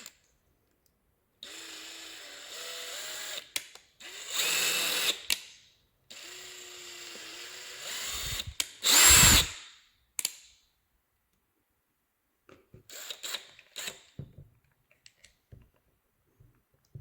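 A power drill opens up a hole in a Spirit Halloween Ghostbusters ghost trap, several short whirring bursts separated by pauses, close and fairly loud, with a brief louder grinding spell and small clicks of handling.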